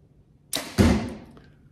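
An archery bow shoots an arrow at close range, giving a sharp release snap followed by a heavier thump that rings out and decays over about a second, with no talk.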